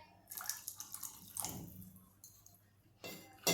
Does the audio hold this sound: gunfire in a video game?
no